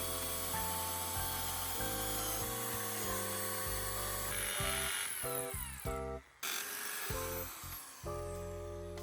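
Whining drill boring screw holes in a window security grille, running in sustained, shifting-pitch bursts with brief stops and restarts, close and loud with no talking.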